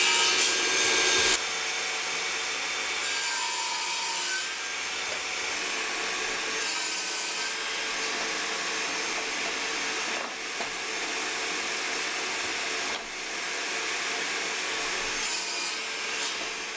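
A power saw ripping wooden boards down to the same width for a TV stand and shelves, a loud steady whine in repeated passes, with short breaks and shifts in pitch between cuts.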